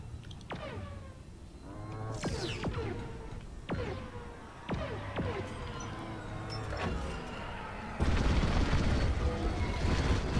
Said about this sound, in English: The rotary cannon is pretty effective.